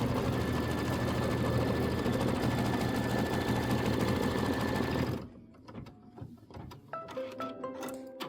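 A sewing machine stitching a pieced quilt block, a loud, rapid continuous mechanical whir for about five seconds that stops abruptly, followed by scattered handling clicks and light rustling.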